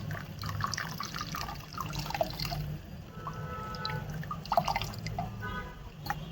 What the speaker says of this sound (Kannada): ಹುಣಸೆ ಹುಳಿ ಆಲ್ರೆಡಿ ಕಲಸಿ ಮಡಗಿದೆ, ಅದನ್ನು ನೀಟಾಗಿ ಬಿಟ್ಕೊಂಬಿಡೋಣ.